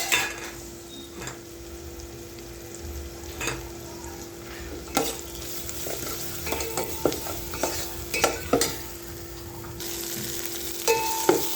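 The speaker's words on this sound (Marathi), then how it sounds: "हे वाटण जे आहे आपण असं छान मस्त फ्राय करून घेऊ" Ginger, garlic and coriander paste with a little turmeric frying in a pot for chicken soup, a soft continuous sizzle broken by repeated scraping clicks of a spoon stirring against the pan.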